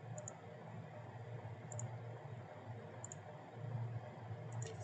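Faint, sharp mouse clicks sound about four times, widely spaced, over a steady hum while a building model is edited in Revit.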